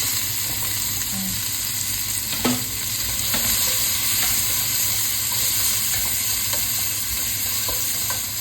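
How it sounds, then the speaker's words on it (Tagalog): Onions sautéing with ginger in a pan give a steady, loud sizzle throughout, with a few brief scrapes and clinks of stirring scattered over it and no voices. "Lutuin natin itong sibuyas muna hanggang lumambot bago natin ilagay yung ating beef"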